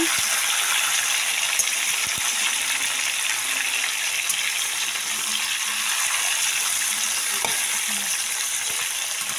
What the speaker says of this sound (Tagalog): haluin po natin ang ating chicken wings